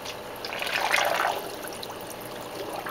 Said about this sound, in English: I think I'm going to put some fresh water in this